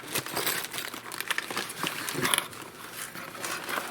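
Paper crinkling and rustling as leveling paper from an Elegoo Saturn resin printer toolkit is handled, with close, irregular crackles throughout and no talking.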